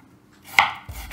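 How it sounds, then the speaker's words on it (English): Knife slicing jicama on a cutting board before cutting it into julienne matchsticks, two sharp close chopping strikes against the board, alone with no talk. "Slice it first, then cut it as julienne or"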